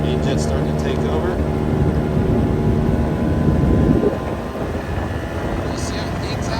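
A Honda Dio AF34 scooter engine buzzes and revs steadily at close range while the carburetor is adjusted, the pitch holding high before dropping back. Someone talks over the running engine.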